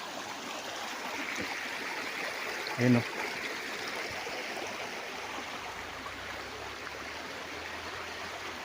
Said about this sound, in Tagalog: ito yung ilog na nasa loob ng property.